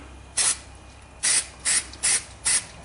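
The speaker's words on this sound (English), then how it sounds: "Just take your spray and just kind of spray your cloth just a little bit like that." Short hissing bursts from a spray bottle misting a cloth, five quick sprays in an uneven rhythm, close and fairly loud over a quiet room.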